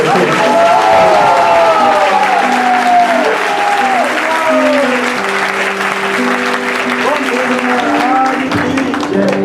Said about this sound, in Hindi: इस बात को ताली हो जाए